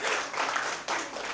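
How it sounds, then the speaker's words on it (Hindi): Brief burst of audience applause during a storytelling performance, dense clapping that dips briefly then swells again, heard alone without speech. "लोगों ने तालियां भी मारी।"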